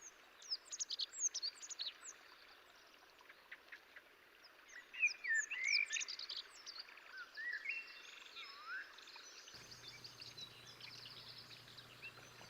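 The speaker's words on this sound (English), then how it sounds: "Thousands of small birds that join the ones resident in this territory." Many small birds sing and chirp in a wild Iberian landscape, a busy overlapping chorus of quick high tweets and trills, moderately near and fairly faint, with no voices.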